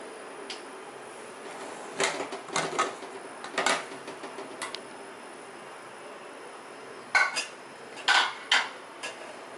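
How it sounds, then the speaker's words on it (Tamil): Cooked chickpea pulao rice being gently stirred in a pot, giving soft scattered clinks and scrapes of a spoon against metal, close and quiet with pauses between. "அரிசி உடையாம பார்த்து மெல்ல கிண்டுங்க"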